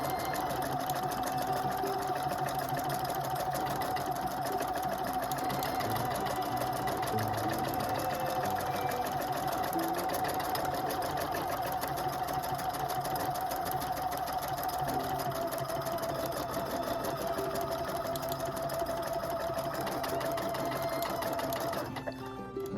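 A Husqvarna Viking #1+ sewing machine stitches steadily for over twenty seconds, a continuous close, even mechanical whir with a high steady hum, running alone without talk until it stops at the end.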